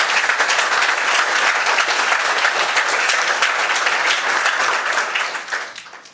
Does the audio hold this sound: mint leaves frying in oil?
no